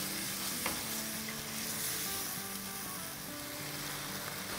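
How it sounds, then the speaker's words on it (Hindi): Masala fries with yogurt in a pan, giving a steady, fairly quiet sizzle and crackle with occasional stirring, and no one speaking. "दही के साथ भूनेंगे"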